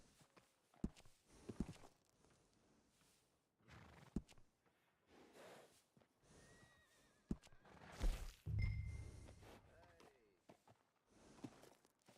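Horse neighing and hooves walking in Red Dead Redemption 2, a workhorse at a stable: scattered soft hoof thuds and a short whinny around the middle, with a louder snort-like burst, quiet and intermittent.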